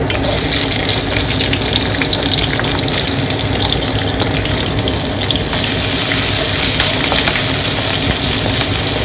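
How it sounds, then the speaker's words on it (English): Half a white onion hits hot oil in a pan for a beef and vegetable stir fry, giving a steady, loud, close sizzle and crackle with no pauses. The frying grows slightly brighter and fuller partway through. "I've added a bit of oil, so I'm going to add the onions"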